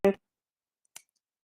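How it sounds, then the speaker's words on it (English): A computer mouse clicks an assign button, one short sharp click followed a moment later by a second faint tick, otherwise quiet. "I'm clicking assign"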